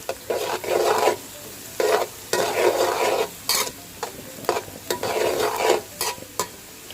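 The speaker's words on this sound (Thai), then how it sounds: "ผัดผัดคั่วคั่วทอดทอดได้เลยค่ะ ให้ปลามันเหลืองกรอบหอมเลยนะคะ" Small fish stir-fried in hot oil over medium-to-low heat for a crispy sugar-coated Thai snack: close, repeated bursts of spatula stirring and crackling sizzle in an uneven rhythm, with no talking.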